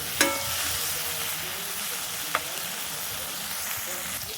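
Masala sautés in hot oil for chicken curry, a constant close sizzle with a couple of sharp stirring clicks on the pan.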